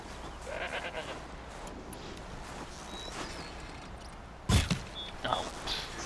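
Goats bleating in the video game Horizon Zero Dawn: a few short, fairly faint bleats over quiet in-game ambience, with one sharp louder sound near the end.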